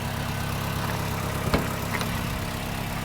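A steady, low engine idle rumbles evenly throughout, with a faint click partway through.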